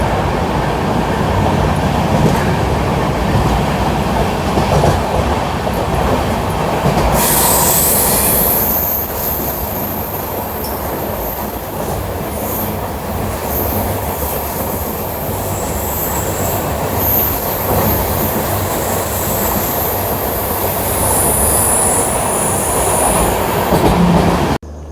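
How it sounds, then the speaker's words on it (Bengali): Kriya Yoga Express 18615 pulls into Tatisilwai junction at dawn, a continuous loud rumble of rolling wagons with wheel clatter and a long high metallic squeal of brakes as the train slows, steady throughout. "আমাদের ট্রেন এখন এসে পৌঁছেছে টাটিসিলভাই জংশন"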